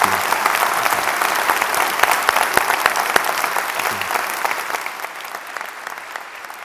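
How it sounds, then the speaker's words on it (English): A large audience applauds at a university's annual State of the University address, steady loud clapping with scattered sharp claps that thins toward the end of the several-second stretch, no voices over it. "Let's give Dr. Dietz a final round of applause"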